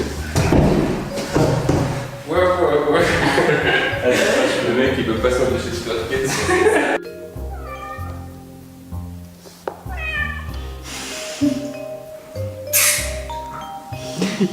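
Cat meows in the video game Undertale, several short tonal mewls scattered through the passage amid game sounds and a thud, with people talking over them throughout.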